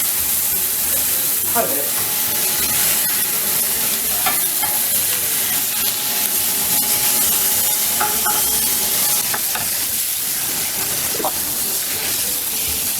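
Rainbow trout fillet fries in butter in a pan with a constant crackling sizzle and hiss. Occasional utensil scrapes and a brief spoken remark sit over the frying.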